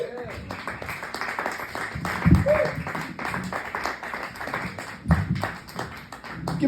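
Comedy club audience at Nomads Trailside applauding a stand-up comedian: dense, steady clapping with a few louder bursts, fairly close. Voices mingle in under the applause.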